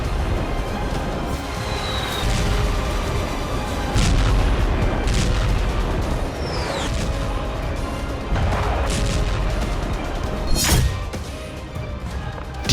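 Artillery and rocket fire in the Donbas war booms repeatedly over a rumbling background, several heavy thuds and blasts spaced a couple of seconds apart, at a distance but loud.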